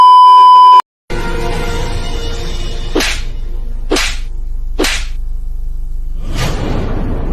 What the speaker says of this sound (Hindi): थप्पड़ मारा एक पर आवाज आई चार।